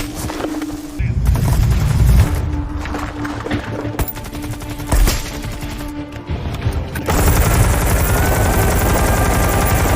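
Dramatized gunfire sound effect from a war scene with a Ukrainian sniper and Russian soldiers: loud, dense bursts of automatic fire and heavy booms across the whole stretch, with a narrator's voice running over parts of it.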